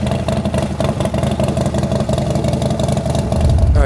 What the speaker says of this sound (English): they got the bikes out on the track